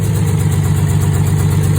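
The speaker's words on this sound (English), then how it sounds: "sure enough, fired right up and idled" A Detroit 6-71 diesel in a 1975 Dodge 900 truck idles loud and close, a steady low rumble with even, rapid pulsing throughout.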